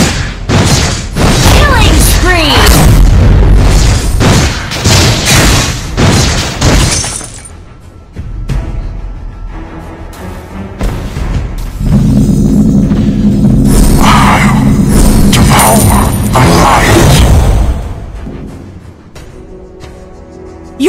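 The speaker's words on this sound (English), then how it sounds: "Your team destroyed a turret!" In Mobile Legends, a turret is destroyed with a loud, crashing explosion. A burst of shattering booms and impacts fills the first seven seconds, then a quieter gap gives way to another swell of rumbling effects with game announcer voices.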